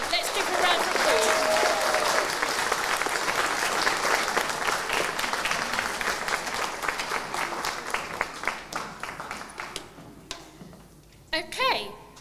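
An audience at a leaders' awards ceremony gives an award winner a long round of applause that starts full and loud and slowly thins to scattered claps, with a voice heard near the end.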